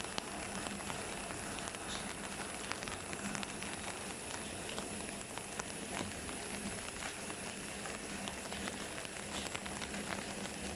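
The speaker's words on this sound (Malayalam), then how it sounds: "ഇന്നെന്തായാലും നല്ലൊരു മഴയാണ്" Soft, steady rain patters evenly without pause, a quiet continuous hiss of drops with no voices.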